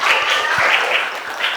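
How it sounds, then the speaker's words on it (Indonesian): A classroom group gives a short burst of steady clapping, dense and fairly close, lasting under two seconds. "Oke, tepuk tangan."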